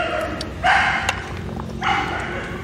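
A dog barks twice at close range, two loud bursts about a second apart, with quieter household background between them.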